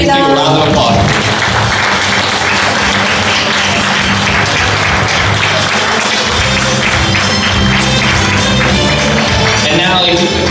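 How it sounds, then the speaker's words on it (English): Audience applause at an internship completion and scholarship ceremony, a dense, steady clapping that stays loud and continuous throughout, with voices mixed into the crowd noise. "Please give a round of applause."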